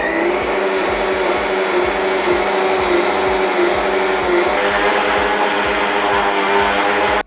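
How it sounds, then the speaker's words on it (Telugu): Mixer grinder whirring as it grinds two cups of upma rava (semolina) in the jar, a loud, steady motor roar with gritty rattling pulses running continuously throughout. "రవ్వను 5 నిమిషాలు మిక్సీ జార్లో వేసుకొని గ్రైండ్ చేసుకున్నానండి"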